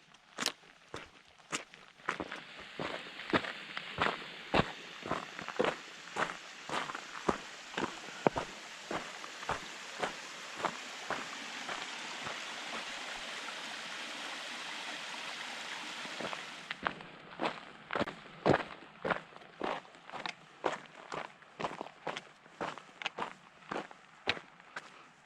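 A hiker walks down a Scottish hill trail in the afternoon, steady crunching footsteps close by, regular and unhurried, with a stretch in the middle where a softer, continuous rushing background rises behind the steps.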